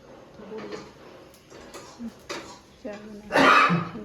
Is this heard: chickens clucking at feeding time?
no